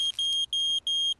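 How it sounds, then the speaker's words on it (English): A household smoke detector shrills in a run of rapid, evenly spaced high-pitched beeps with brief gaps, loud and close, no voices over it. "the smoke detector did go off"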